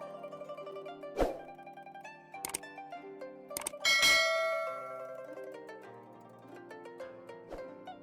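Chiming bell notification effects ring out over a soft tonal music bed, several distinct dings and a louder bright shimmering chime midway, with no speech.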